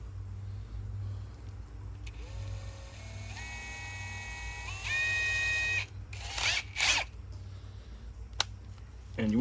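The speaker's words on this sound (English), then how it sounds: "And you want to put your drill on quicker speed as well." A power drill bores holes in the lid of a Weber Smoky Mountain grill, its motor whine climbing in steps to a higher speed before short harsh bursts, over a steady low hum, without talk.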